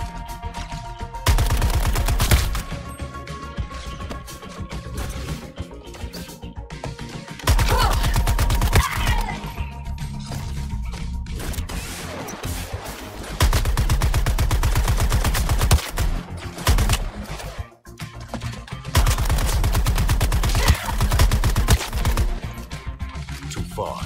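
Gunfire in the Suicide Squad: Kill the Justice League game, loud rapid automatic bursts of several seconds each separated by short pauses, with game effects and music in the background.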